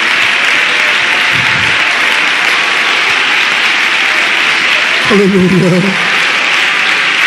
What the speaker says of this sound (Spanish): ¿Dónde está el aplauso? ¡Aplauda, aplauda la gloria de Dios!